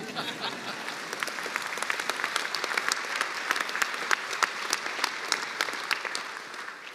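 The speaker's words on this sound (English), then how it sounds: "Thank you for the applause." Sustained applause from a large audience at a university pharmacy commencement ceremony, many hands clapping in a dense, even patter that carries on throughout at moderate loudness.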